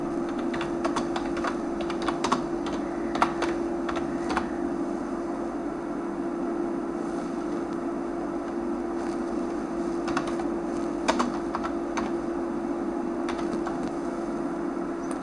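Address typed on a computer keyboard, a stream of light irregular key clicks over a steady low hum, fairly close and without any speech.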